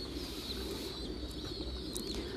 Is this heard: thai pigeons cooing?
yes